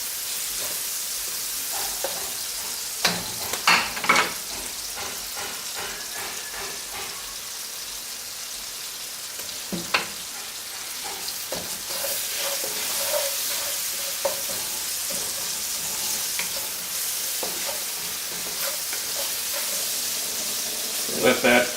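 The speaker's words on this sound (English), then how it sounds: "Let that simmer on low for just" Kamote tops simmering on low heat in a pan, a steady hissing sizzle with occasional utensil knocks and stirring scrapes, interrupted now and then by brief voice sounds.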